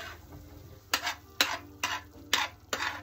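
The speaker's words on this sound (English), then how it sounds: "You just want to hear that sizzle." Spaghetti sauce cooks in a pan with a low, steady sizzle, broken by five evenly spaced scraping stirs of a utensil against the pan, each a short rasp.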